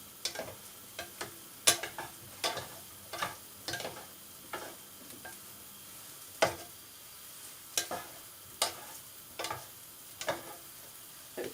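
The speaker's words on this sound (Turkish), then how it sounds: "birazcık bırakalım ki e, tavaya değen yerleri hafif kızarsın" Chicken pieces frying in oil over high heat, with a soft sizzle under a run of irregular clacks and scrapes as a utensil moves them around the pan, close up with no voices.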